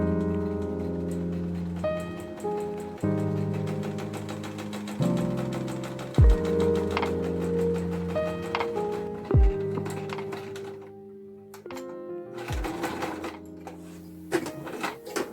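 A sewing machine stitches a sweater in steady rapid bursts, starting and stopping several times, loud and close with no talk.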